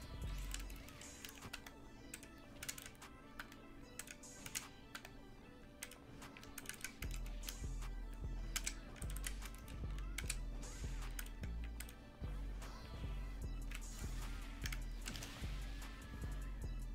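Arcade stick buttons clatter rapidly during a competitive fighting-game set, a steady stream of light plastic clicks much like keyboard typing, heard close and fairly quiet over a low background hum.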